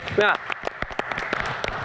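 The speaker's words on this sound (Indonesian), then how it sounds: "Tepuk tangan dulu buat kita semua deh." Studio-style applause for a health-show audience, with quick broadband claps pattering through a short stretch while a presenter talks over it.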